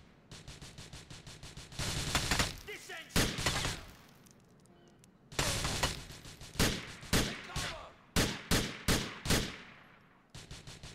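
Gunfire in GTA IV rings out in sharp bursts, an early cluster then a run of evenly spaced loud shots with brief echoing tails, close and dominant.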